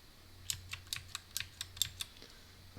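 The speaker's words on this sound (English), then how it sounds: "I typed my pin a little slower this time" A PIN is typed on a computer keyboard as about ten separate key taps in an uneven, unhurried rhythm, quiet and close over a low hum, with no voices.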